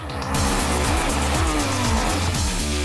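Engine of a 2013 Honda CRF450R motocross bike, loud and close, revving through gear changes with rising pitch sweeps and a steady raspy drone throughout, no talk.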